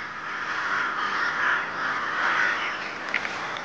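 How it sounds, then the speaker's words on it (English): Crows caw harshly in a steady chorus, the calls overlapping and swelling in waves, with a brief sharper call near the end; no voices are heard. "These crows are not about to stay and pick a fight."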